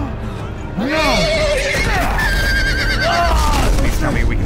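Horses neighing in the Game of Thrones video game, several loud whinnies rising and falling close by over rumbling commotion.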